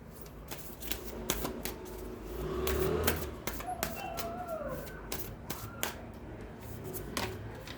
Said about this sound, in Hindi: कुछ कार्ड्स और हम लेंगे।